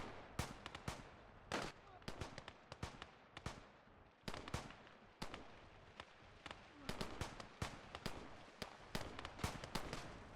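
Two MG42 machine guns firing in the WWII game Call to Arms, a steady crackle of sharp gunshots and bursts with distant booms throughout, heard at a moderate distance under a low background rumble.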